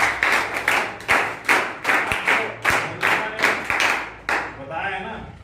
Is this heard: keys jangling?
no